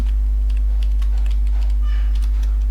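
Typing on a computer keyboard, a quick scatter of light key clicks in an irregular rhythm over a steady low electrical hum, close and fairly clear.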